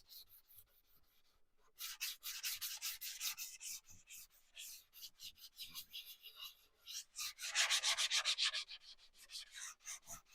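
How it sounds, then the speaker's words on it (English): Hand sanding with 400-grit sandpaper over epoxy primer: quick rhythmic rasping strokes after a quiet start, growing busier and louder near the end, with no voices. "And then you take your 400 paper because there is a slight ridge"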